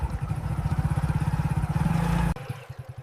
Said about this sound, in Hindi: गांव की सड़कों पे बाइक चलाने का अपना ही मजा है।